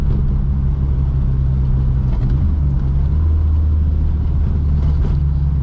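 A VW Mk2 GTI with a 1.8T turbo engine and 76mm exhaust drones steadily under boost, loud and close, with a low rumble whose pitch wavers and surges throughout.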